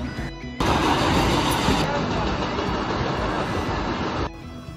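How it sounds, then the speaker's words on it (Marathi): A passenger train departing Panvel rumbles steadily along, its broadband roar starting abruptly, holding for several seconds, then dropping away near the end; heard from a first-class carriage. "आता आपली ट्रेन निघालेली आहे"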